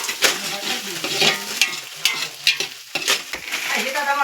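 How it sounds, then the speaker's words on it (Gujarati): Onions frying in hot oil, likely in a large pot for a batch of Maggi noodles, give a steady broad sizzle. Repeated scrapes and knocks of a spoon stirring through the pan sound close by. "તેલ આવી ગયું પછી ડુંગળી નાખી દીધી"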